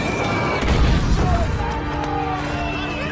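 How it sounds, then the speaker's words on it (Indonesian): Bombs dropped by German fighter planes explode among Soviet infantry near the Moscow border, a dense, loud rumble of blasts and crashes that continues without a break. "serangkaian bom."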